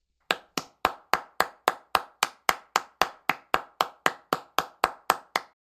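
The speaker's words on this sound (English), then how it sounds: "Let's get a round of applause" A single pair of hands claps in a slow, perfectly even rhythm, about nineteen sharp, dry claps spaced roughly a quarter second apart, close and alone with no voices.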